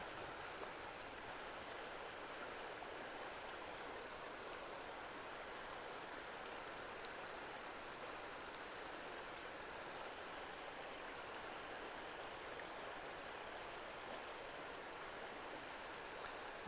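Water steadily washing through sediment in a gold pan, a continuous soft rushing and sloshing that holds an even level throughout with no talk.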